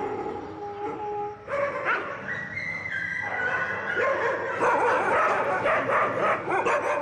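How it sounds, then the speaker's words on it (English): A lone street dog in Kolkata cries out at night with drawn-out howls and whimpering yips, close and fairly loud against a steady background hum of the city. "It opens with a dog howling into the night, something that's just part of the soundscape of a Kolkata night."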